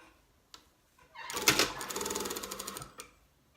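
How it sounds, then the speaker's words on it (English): A sewing machine stitches down the ends of a fabric collar with a 1 cm seam allowance, a steady rapid mechanical run of about a second and a half after a few faint clicks, close and alone. "stitch down each end of my collar with a 1 centimetre seam allowance"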